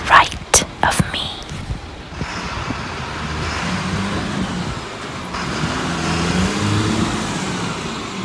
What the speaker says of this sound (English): it was just this truck over here to the right of me.